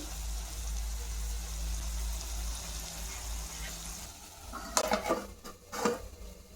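A spoon stirs broad bean curry with garam masala in a cooking pan, a low steady background broken near the end by two sharp scraping clatters of metal against the pan.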